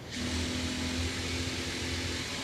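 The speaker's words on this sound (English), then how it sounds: "Oh, that's your printer, Paul." A 3D printer runs a vibration test, giving a steady mechanical drone with a sustained tone and a low rhythmic pulsing that carries unbroken through the stretch.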